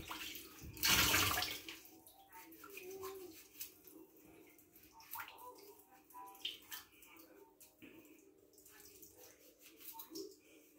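Dishes and cutlery washed under running water at a sink, with an early loud burst of splashing flow, then soft clinks, rattles and trickling, mostly quiet and close.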